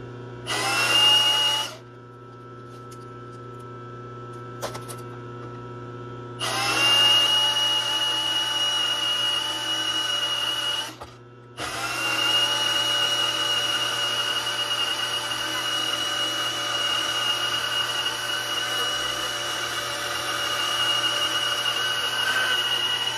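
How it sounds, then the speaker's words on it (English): A metal lathe cuts off a metal workpiece in a shop, a steady high whining and grinding that runs in three bursts separated by short pauses, with a constant low motor hum underneath. "Matter of fact, I'm going to cut it off."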